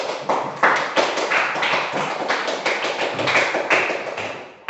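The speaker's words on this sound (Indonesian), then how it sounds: "Oke, tepuk tangan dulu buat Hana." Applause from a classroom of students, a burst of many hands clapping at close range that continues steadily and then stops abruptly.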